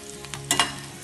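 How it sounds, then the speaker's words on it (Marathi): Urad papad frying in a pan for chutney, quick crackling sizzles with a couple of louder spits in the middle, close and brief with no talking. "पापड भाजताना तो पण छान तळून जातो।"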